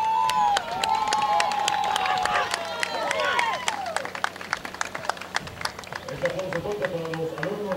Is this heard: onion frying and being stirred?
no